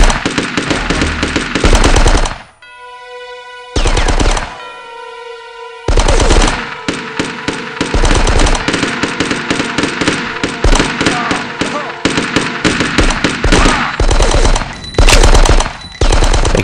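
Gunfire in the Die Hard: Nakatomi Plaza video game, dense rapid bursts of shots filling most of the clip, loud and close, with brief pauses where a musical tone sounds.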